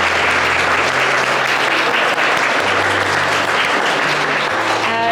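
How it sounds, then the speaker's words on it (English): Wedding guests clapping after a couple's vows: loud, sustained applause from a close crowd, even and continuous throughout with a faint tonal hum beneath. "Shall I give them a little clap for doing their own vows?"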